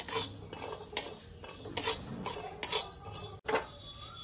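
Cumin and coriander seeds dry-roast in a hot, oil-free wok while a spatula scrapes and stirs them in quick, irregular strokes, producing quiet metallic scraping and rustling close by.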